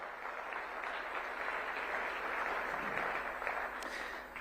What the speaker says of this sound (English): massive round of applause for Donata and ELR for last night